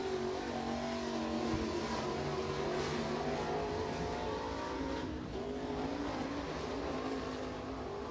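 A 5J Rocket XR1 chassis crate race car lapping a dirt track at Crossville during qualifying, its engine a loud, sustained roar that rises and falls slightly as it runs through the turns.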